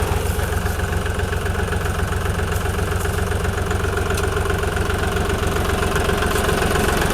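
A tractor engine idles steadily at close range after plowing a garden, a continuous low, throbbing rumble with an even knock and no voices.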